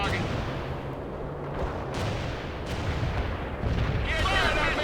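A Sheridan light tank in the World in Conflict strategy game fires at a target: heavy booming cannon blasts with rumbling echoes, loud and dense, while radio-style voice lines are heard over the battle.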